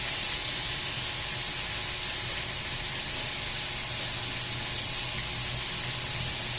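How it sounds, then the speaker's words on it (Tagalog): Garlic is sautéed in a pan for garlic adobo, giving a steady, fairly quiet sizzling hiss that holds evenly throughout with no talking. "Igisa natin ito dito."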